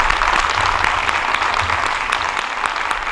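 Steady, dense applause from a comedy-show audience at a summer town festival in Telde, filling the whole moment at close range with no voices over it.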